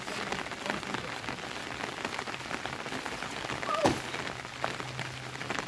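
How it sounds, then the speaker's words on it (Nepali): Steady rain falls during an outdoor monsoon outing, a continuous even patter on surfaces nearby with a short louder splash or knock midway. "एकदम मिठो झरी छ"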